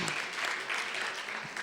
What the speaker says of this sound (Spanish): cuántos le dan un aplauso al apóstol Pablo en esta mañana